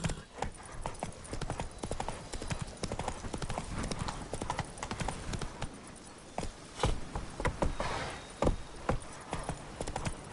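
Horse hooves clip-clop in a quick, irregular rhythm, close and fairly loud, with a few louder strikes scattered through.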